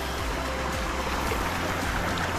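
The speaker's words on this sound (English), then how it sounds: "There's the creek coming in, and then it flows over that" Steady rushing of a creek flowing into a lake, a constant broad wash of sound with a low rumble beneath it, no voices.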